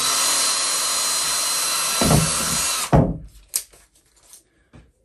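A power drill fitted with a 7.5mm bit drills inside a camper van, whining loud and continuous for nearly three seconds before stopping, followed by a few sharp knocks and clatters.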